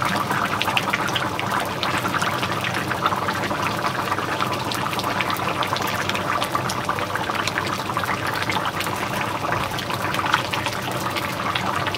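Sauce poured into a pan while making papad curry makes a continuous, fairly loud liquid pouring and splashing sound that holds steady throughout, with no talking over it.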